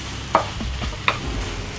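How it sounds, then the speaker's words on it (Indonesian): Spice paste for soto ayam is stirred in a pan, two sharp scraping knocks of a utensil over a low, steady sizzle. "aduk-aduk bentar biar sampai wangi"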